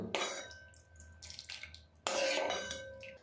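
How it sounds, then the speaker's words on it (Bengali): Soaked sabudana rinsed under cold water in a strainer, with bursts of running, splashing water that pause briefly and then return stronger, close up and without speech. "এবারে এই সাবুটা আমি তুলে ঠান্ডা জলে ধুয়ে নেব।"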